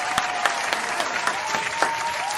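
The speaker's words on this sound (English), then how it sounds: "Round of applause to the Cash App." Dense crowd applause fills the whole short stretch at steady strength, with sharper individual claps popping out now and then and no voices over it.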